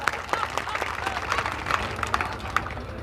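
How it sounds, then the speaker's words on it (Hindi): A crowd applauds at a political rally and training camp gathering in Amroha, a busy wash of clapping with sharper individual claps standing out, with voices mixed in underneath. "जोरदार तालियां"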